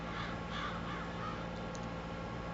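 Birds caw faintly in Farming Simulator 22 on the Potowa, Poland map. A few short caws come early over a steady, hissy outdoor background, and no one speaks.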